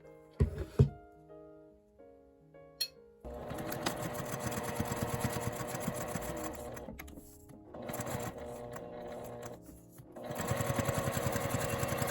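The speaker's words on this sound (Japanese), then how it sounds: "端にミシンをかけます" A sewing machine runs in bursts, stitching the edge of fabric for a zippered pen case with a rapid mechanical whir and pauses between runs, preceded by a few soft clicks and handling sounds.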